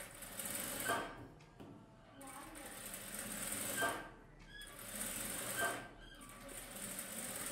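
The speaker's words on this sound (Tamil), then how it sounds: "ஒரு தையல் தானே போட்டிருக்காரு, இப்போ இன்னொரு தையல் போடுவார்." A sewing machine stitches a blouse, running in steady, close, loud bursts of a few seconds each, with brief pauses between runs.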